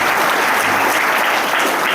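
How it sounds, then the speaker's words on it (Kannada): Loud applause from a village gathering at a devotional life-story discourse: a dense, close roar of many clapping hands, strong and sustained throughout, with no voice over it. "ಜೋರಾಗಿ ಚಪ್ಪಾಳೆ"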